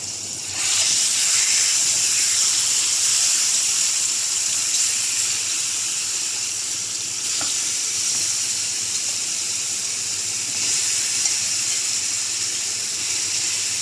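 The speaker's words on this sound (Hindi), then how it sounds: "तेल गरम हो चुका है। अब हम इसमें चिकन के पीसेस ऐड करेंगे।" Chicken pieces frying in hot oil in a pan give a loud, continuous bright hissing sizzle that starts abruptly and holds steady throughout, with faint clinks from the pan here and there.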